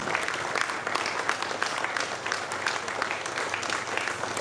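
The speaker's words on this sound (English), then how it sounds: "Can we rise and put our hands together for him?" An audience at a 70th birthday celebration applauds, a dense and sustained wash of clapping from many hands, fairly loud and continuous throughout.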